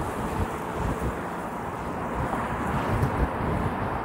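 Steady wind roaring over the microphone while cycling into a headwind along a Toronto city street, a continuous broadband rush with slight swells and no talk.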